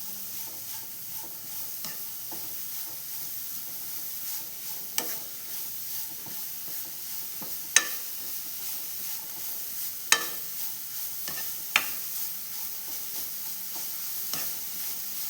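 Ingredients for payasam sautéing in a pan, a steady low hiss punctuated by sparse, sharp scrapes and taps of a stirring spoon every couple of seconds, near and without talk.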